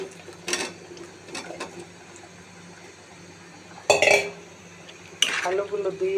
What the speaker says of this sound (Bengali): আলুগুলো দিয়ে ভালোভাবে নেড়ে দিচ্ছি, মশলার সাথে মিশিয়ে দিচ্ছি।